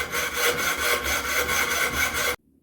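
A hand saw cutting pieces off a metal knife blank, a steady run of loud, close, rasping back-and-forth strokes that stops abruptly into silence.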